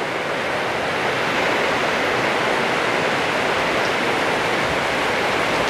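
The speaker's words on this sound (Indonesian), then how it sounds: "Hujan deras sekali." Very heavy tropical rain pours down amid strong wind and flooding, a loud, dense, unbroken roar of water that runs evenly with no talk.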